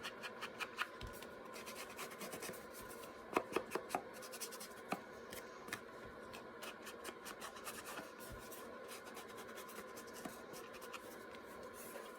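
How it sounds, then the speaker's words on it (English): Ink is rubbed onto the backs of small washi paper pieces, making soft continuous scratching and scrubbing with repeated light taps and dabs, quiet and close. "Maybe I'll just ink the backs right now too."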